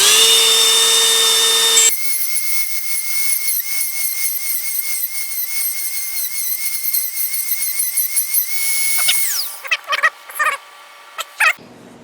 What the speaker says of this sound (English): I'm going to try to take my Dremel and just trim that off until it clears over there